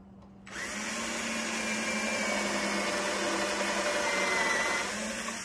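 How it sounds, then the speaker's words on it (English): A cordless drill starts abruptly and holds a steady whirring whine while boring into a wooden fruit stand, running continuously and close for several seconds. "let's go ahead and start screwing this side up. Put our countersink holes in it."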